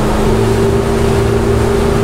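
Ferry at the main jetty of Pulau Ketam, a loud, close, steady engine drone with a constant low hum and no pauses.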